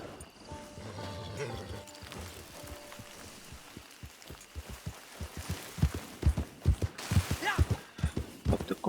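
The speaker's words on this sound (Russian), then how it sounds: "А сейчас уже свободные, скачем по пустыне." A horse gallops across the desert in Red Dead Redemption 2, its hoofbeats starting faint and growing into a loud, rhythmic run of thuds, with brief talk near the start.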